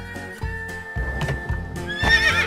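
In a commercial, a horse neighs loudly and shrilly near the end, over a rhythmic clip-clop of hooves and a steady musical backing that runs throughout.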